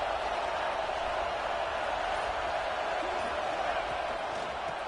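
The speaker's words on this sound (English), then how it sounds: "This crowd is trying to inspire this defense to make a big red zone stop" Stadium crowd at a football game roars as the home defense faces a red zone stand, a dense, steady wall of noise that holds at full loudness throughout without letting up.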